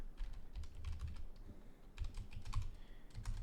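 Rapid typing on a computer keyboard, a dense run of close, crisp key clicks in uneven bursts with brief pauses, alone and without voices.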